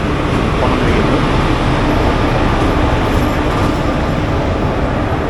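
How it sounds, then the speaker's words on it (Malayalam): A train with a WAP-4 electric locomotive, the Amritha Express bound for Madurai, gives off a steady, loud rail rumble at a station platform, broadband and continuous throughout. "ഈ കാണുന്ന ട്രെയിനാണ് നമുക്ക് പോകാനുള്ള വണ്ടി."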